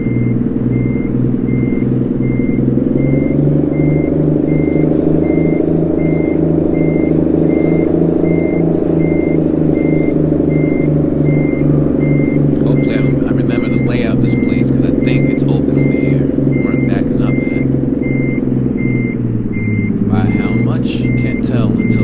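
Kenworth K100 truck in American Truck Simulator backing up, its reversing alarm beeping in a steady, regular pulse over the loud low drone of the diesel engine, with brief clicks and rattles near the end.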